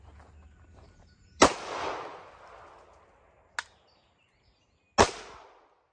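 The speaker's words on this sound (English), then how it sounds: "Let's see if we can put 2 rounds through it as is." A Hi-Point firearm fires outdoors during a dirt and mud test: two loud, close shots a few seconds apart, the first trailing a long echo, with a sharp smaller crack between them.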